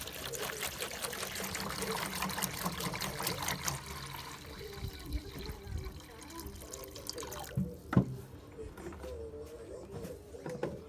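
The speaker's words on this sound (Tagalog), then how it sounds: "lagyan po natin siya ng stock water." Stock water pours into a betta fish breeding container as a continuous close trickle that softens toward the end, with a small knock near the finish.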